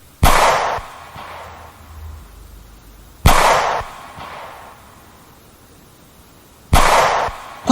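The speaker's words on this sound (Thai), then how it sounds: "เสียงปืนแผดดั่นสนั่นป่า" Three loud gunshots ring out through a forest, each a sharp crack followed by a long echoing tail, spaced a few seconds apart, close and forceful, with no talking.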